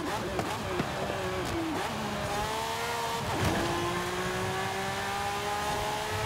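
A car engine in Forza Horizon 5 revs up and shifts through gears, its pitch climbing and dropping under a steady hum, while a person talks over it.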